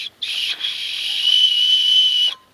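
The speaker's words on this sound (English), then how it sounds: "they have whistles built into them" A survival bracelet's built-in whistle gives a loud, shrill, steady blast held for about two seconds after a short opening toot, close to the listener with no talking.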